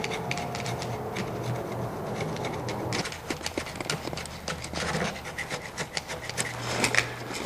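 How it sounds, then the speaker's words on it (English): A flat blade screwdriver scrapes old material out of a latch clasp on a Mazda Miata, giving close, repeated rasping strokes in an uneven rhythm. "I'm going to just use a flat blade screwdriver and scrape it out."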